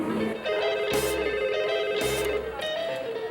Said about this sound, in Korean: 며칠 후 판매점으로 걸려온 전화 한 통